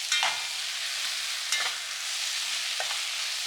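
A spoon stirs diced carrots, yellow yam and dasheen in a cooking pot for an Ital stew. Three short scraping strokes stand out over a steady sizzle, with no one talking.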